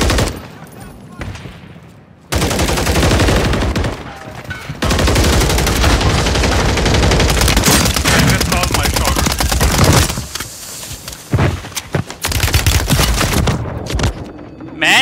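Rapid automatic gunfire in the battle royale game Warzone, on Ashika Island with an MTZ 762 rifle: loud, dense bursts and sustained volleys with brief pauses between them.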